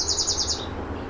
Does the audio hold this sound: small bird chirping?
yes